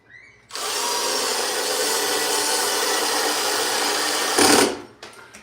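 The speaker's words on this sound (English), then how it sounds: "so we got to drive the bolt in." A power drill drives a bolt during a door knob installation, whirring steadily and loudly for about four seconds up close before a short strained burst and a quick stop.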